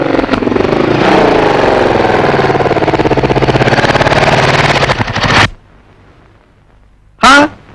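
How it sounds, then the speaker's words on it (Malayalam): A loud, close motorcycle engine rattles in a fast, steady pulse for about five seconds, then cuts out abruptly, leaving quiet before a brief sharp burst near the end. "ഒരു മോട്ടോർ സൈക്കിളിന്റെ ശബ്ദം."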